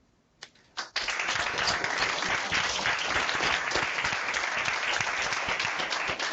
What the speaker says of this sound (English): join me in giving a warm round of applause to Pro Football Hall of Famer, Mr. Ken Houst